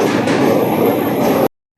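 A passenger train runs loudly along the track, a close, steady rumble with a continuous high whine that cuts off abruptly.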